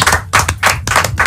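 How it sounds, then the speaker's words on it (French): Audience applause on a French TV talk show, heard as a few loud, rhythmic bursts of clapping close by, with no talking. "Applaudissements pour John Jay."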